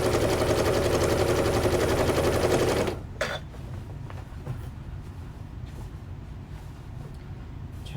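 A sewing machine stitches a border onto a baby quilt with a rapid, even mechanical chatter for about three seconds, then stops, leaving faint handling clicks and rustles of fabric.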